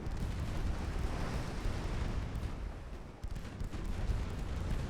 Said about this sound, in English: Have her come about so she can hopefully shoot with her 7-inch guns